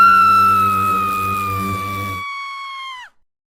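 A girl screams loudly in fright, one long sustained high-pitched shriek over a low rumbling background that drops away, the scream holding alone before trailing off abruptly.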